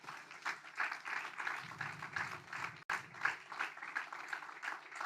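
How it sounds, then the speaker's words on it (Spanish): A church congregation applauding during a sermon, with soft, somewhat distant clapping that swells in rhythmic waves, with a brief dropout midway before resuming. "Dale un aplauso al Señor"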